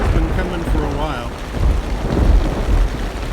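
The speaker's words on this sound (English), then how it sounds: "the thunderstorm just it's been coming for a while" Steady rain with low rolling thunder from a thunderstorm near a campsite, a deep rumble swelling under the patter, with faint voice-like sounds mixed in.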